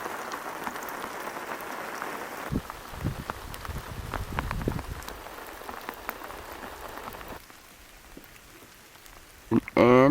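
Rain falls steadily in the Top End of the Northern Territory, a dense outdoor patter on surfaces with scattered louder drops, moderately loud throughout and easing toward the end.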